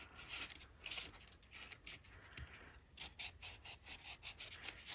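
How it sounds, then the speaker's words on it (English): Dry paper pieces are burnished together by hand for a Paper Pumpkin Kisses and Hugs card, with continuous close rubbing and scraping strokes rising and falling in steady repeated passes. "Burnish these two together."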